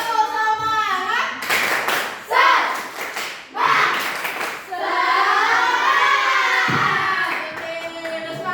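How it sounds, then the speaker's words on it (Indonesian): A group of children in a classroom lesson perform a rhythmic clapping chant, bursts of sharp hand claps and thumps alternating with loud sung and shouted voices. "Tepuk semangat."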